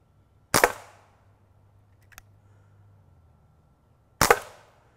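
A 357 Magnum-style dart gun powered by a fresh CO2 cartridge fires two sharp, close pops a few seconds apart, each followed by a short hiss, with a faint click between them.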